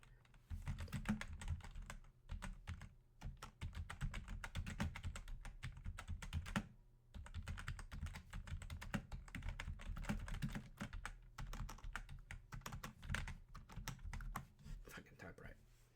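Fast typing on a computer keyboard, a quiet close run of rapid clicking keystrokes with a brief pause partway, under occasional speech.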